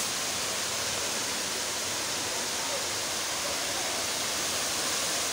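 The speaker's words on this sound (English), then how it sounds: "Side of attraction, Kintampo waterfall." Water rushing down the Kintampo waterfall, a steady, dense roar that stays even and unbroken throughout, close and enveloping.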